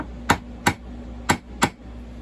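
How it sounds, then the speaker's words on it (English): Four sharp, light taps from a small 4-ounce hammer striking parts of a STIHL MS362 chainsaw on a workbench, spaced in two pairs, close and crisp with no talking. "We're gonna use a 4-ounce hammer on this real quick."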